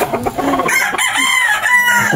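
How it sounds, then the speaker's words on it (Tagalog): A rooster crows once in a long drawn-out cock-a-doodle-doo, loud and fairly close, with some clucking and outdoor background noise around it. "Manok."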